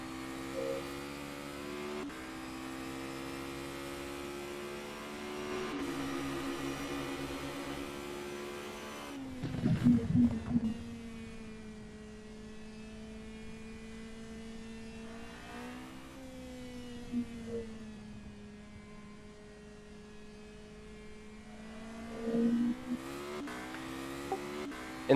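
Open-wheel FR 3.5 race car in rFactor 2 sim racing, its engine holding a steady droning pitch that dips and climbs as the throttle is lifted and reapplied, with a brief rough burst near the middle and short spikes later.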